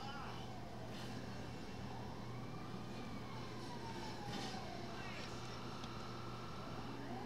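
A GTA 5 fire engine siren wails in slow rising and falling sweeps, faint and somewhat distant over a constant low hum and background game noise.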